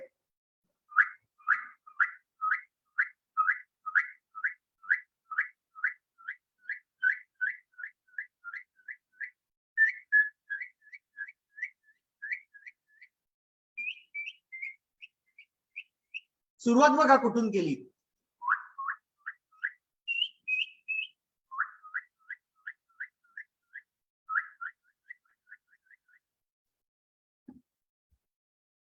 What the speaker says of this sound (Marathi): jungle Bush quail